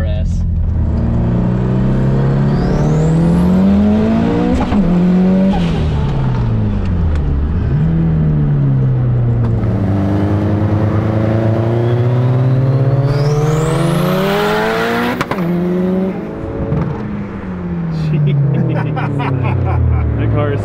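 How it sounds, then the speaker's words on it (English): An 800hp compound-turbo Subaru STI and a rival car accelerating hard in a second-gear roll race, loud engine roar climbing through repeated gear pulls with turbo whine, continuous and close throughout. "That car is so fast."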